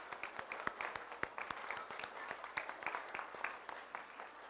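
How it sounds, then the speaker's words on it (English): Applause at a school honor roll assembly, a crowd of children and adults clapping steadily with sharp individual claps standing out, heard from fairly far away in a large room. "Let's give them a great big round of applause."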